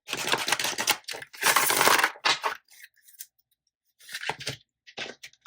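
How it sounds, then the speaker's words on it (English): Tarot cards being shuffled in quick riffling, slapping bursts, close and crisp, with brief pauses between handfuls. "I want to give these a really good shuffle."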